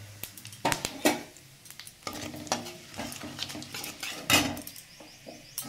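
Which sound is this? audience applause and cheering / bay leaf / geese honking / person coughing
bay leaf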